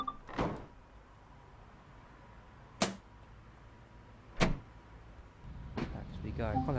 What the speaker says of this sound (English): Lock the doors.